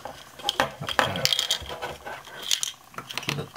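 Small metal nuts drop and clink in a quick scattered series of light, bright taps, close by and fairly quiet, falling out during leg assembly of a small robot.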